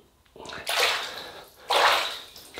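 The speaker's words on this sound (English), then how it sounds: "I just dampen the hands" Water splashes in two short bursts, about a second each, as hands are dampened at a basin before shaving. The sound is close and fairly loud, with quiet gaps between.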